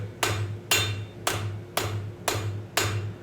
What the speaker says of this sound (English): All right, go back to the anvil. Okay. Continue to draw us out.